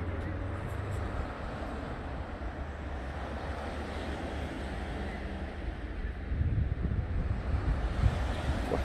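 Sea waves washing on the shore at the Al Hoceima corniche, a steady wind-buffeted surf rush that grows louder near the end, with a voice faintly under it.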